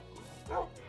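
A dog in the 9 Lives video game gives a short yip or bark, sounding once in a brief burst against a steady game background.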